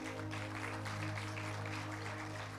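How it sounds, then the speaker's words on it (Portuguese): A church congregation claps for a pastor, a short burst of steady applause over a low background hum, fairly soft and continuous. "Vamos aplaudir a pastor Esdras aqui."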